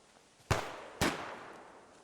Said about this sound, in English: that gunfire is probably coming from the location we're headed to